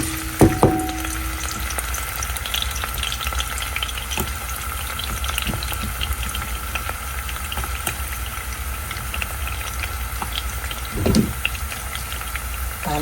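Onions frying in olive oil in a pan, a steady close hiss and crackle running throughout, with a few clinks of a utensil near the start and again near the end.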